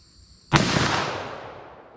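A single loud gunshot from a .44 Magnum single-action revolver fired outdoors at distance targets, a sharp crack followed by a long decaying boom, with no talk.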